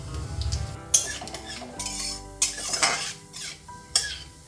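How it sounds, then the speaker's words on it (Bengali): Cinnamon sticks and cumin seeds crackle faintly in hot oil for a tempering, mixed with scraping stirs and metallic clinks of a spoon against the pan in a home kitchen. "দারচিনি দুটো দিয়ে দিলাম এবার একটু জিরে ফোড়ন দিয়ে দিলাম"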